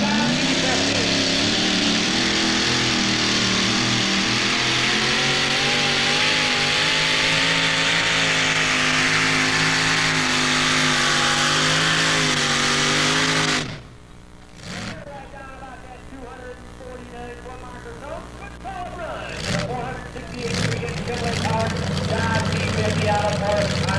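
A pulling truck's engine roars at full throttle during a 1994 NTPA truck and tractor pull in Imlay City, Michigan, a loud sustained rising howl that cuts off abruptly, leaving lower engine rumble with a crowd and a speaking announcer.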